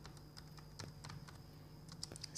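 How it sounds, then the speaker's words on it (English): Command typed on a computer keyboard: a quiet, close run of irregular key taps with a few firmer clicks, alone without talk. "So for that I am typing this command PBC box"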